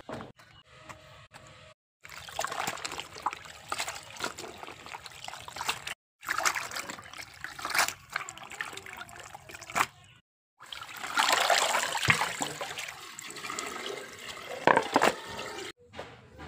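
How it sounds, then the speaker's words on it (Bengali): Water trickles and splashes as bottle gourd leaves are rinsed by hand, in several bursts of sloshing and dribbling separated by brief silences. "এখন এগুলোকে আঁশগুলো ছাড়িয়ে ভালো করে ধুয়ে নেব।"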